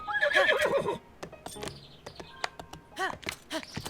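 A horse in Zelda: Breath of the Wild gallops with rapid clip-clop hoofbeats and lets out loud, close whinnies, broken by a few sharp game effects and brief chirps.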